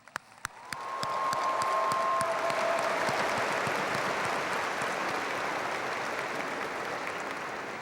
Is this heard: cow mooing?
no